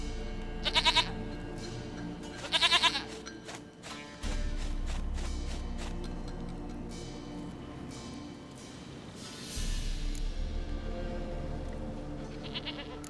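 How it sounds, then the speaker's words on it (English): Goat bleating in The Witcher 3: Wild Hunt, two short wavering bleats close by, each about a second long, followed by low in-game ambience and thumps. "Goat of mine, dearest, sweetest goat."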